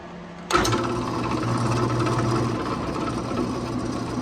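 A power tool shaves down a fret position marker, its motor starting abruptly and then running as a steady, close, buzzing whine throughout.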